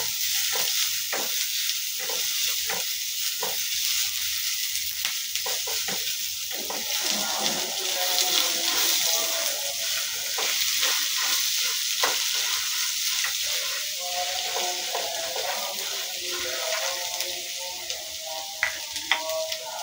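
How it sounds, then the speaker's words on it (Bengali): Chopped onion stirred and frying in a little oil, a steady close sizzle with repeated scraping stir strokes throughout, no talking. "পেঁয়াজটা হালকা একটু তেলের উপর নেড়ে চেড়ে নিচ্ছি।"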